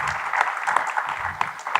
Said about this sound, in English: So please give a big applause to Dr. Takriti and Dr.